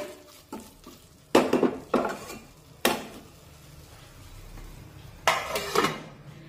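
Several sharp metallic clanks and clatters, like a lid set on a metal wok of cooking chicken curry masala, with quieter scraping between them; close and loud, no talking.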